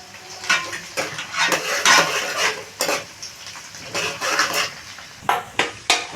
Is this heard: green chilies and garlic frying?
yes